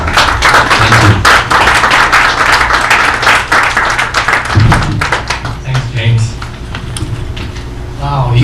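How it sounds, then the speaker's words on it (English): Audience at the grand opening of the Heiwa Peace and Reconciliation Foundation of New York applauds steadily for several seconds, a dense, close wash of hand claps that thins slightly toward the end. "Give him a round of applause,"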